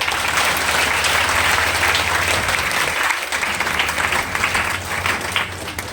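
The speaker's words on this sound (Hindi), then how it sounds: "बजाइएगा ताली" Sustained applause from a large audience at a Hindi poetry recital honoring a Mewar social worker's birth anniversary, loud and dense throughout, easing slightly toward the end.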